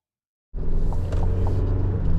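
A 2025 Chevrolet Colorado Z71 truck starts up after a moment of silence and pulls away. A loud, steady low engine rumble with some road noise carries on to the end, close by, with no talk.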